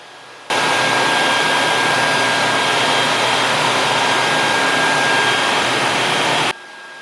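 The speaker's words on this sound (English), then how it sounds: "Yeah, we can definitely start vacuuming." A vacuum sucks live bees out of a house wall, a steady, loud, close roar of airflow that starts abruptly, holds for about six seconds, then cuts off, with no voices over it.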